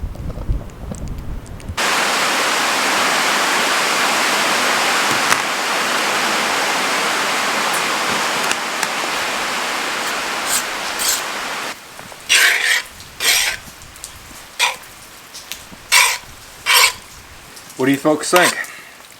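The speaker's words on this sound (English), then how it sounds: "can you tell the rain is coming back" Heavy rain pours steadily on a tent at a campsite during a storm, loud and close, then breaks off into a quieter stretch where a person speaks in short bursts.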